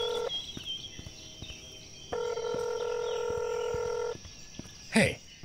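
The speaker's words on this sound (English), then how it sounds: "Phone call." A phone call rings in the video game INFRA, heard as two long steady electronic ringing tones separated by a pause, moderately loud over a quiet ambient background, followed by a brief sharp noise near the end.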